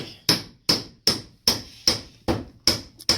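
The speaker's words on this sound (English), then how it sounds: "we've had to cut a wee notch out, get the chisel out" A chisel is driven by hammer blows to cut a small notch out of an angled timber roof truss. About eight sharp, evenly spaced, ringing strikes land close by, with no talking.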